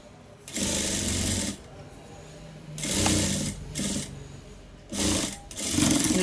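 A sewing machine stitching uniform fabric in several bursts of steady, fast whirring, each lasting a second or so, separated by brief pauses, close and clear.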